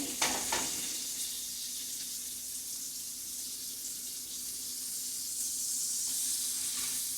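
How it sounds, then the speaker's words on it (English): Flank steak pinwheels stuffed with prosciutto, cilantro, garlic and cheese sear in a hot pan, giving a steady close sizzle, with a couple of sharp clinks near the start. "All of these pinwheels, let's flip those over on the other side. Definitely want them to sear nice and even."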